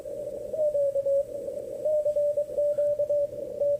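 Low-pitched CW Morse code tones come through an Icom IC-7300 transceiver, a steady sequence of keyed beeps over faint background hiss and a softer second signal underneath.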